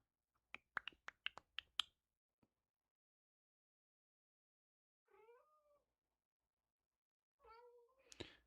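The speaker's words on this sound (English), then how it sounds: "Hey, cat, can you shut up, please?" A cat meows twice in a quiet room, each call a short rising-and-falling cry, the second one louder and more strained, after a quick burst of sharp clicks or snaps at the start.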